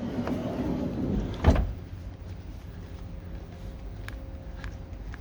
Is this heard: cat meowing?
no